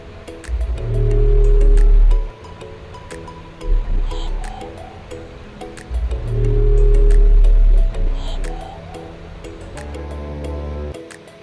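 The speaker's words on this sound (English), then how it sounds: "They later found it was a baleen whale, a peculiar small whale that can sound like this." Loud, deep biotwang calls of a baleen whale recorded in the Mariana Trench: two long low booming pulses, each followed by a metallic twanging tail, with short clicks in between.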